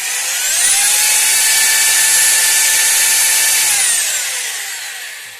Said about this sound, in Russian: просверлили там отверстие в кирпиче